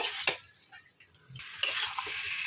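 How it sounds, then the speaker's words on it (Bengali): Stingray fish sautéing in masala in a pan, with close scraping and stirring strokes and a soft sizzle rising and falling, a dull gap in the middle before the frying picks back up, no voices. "এই মাছটা দিয়ে একটু কষিয়ে নেব"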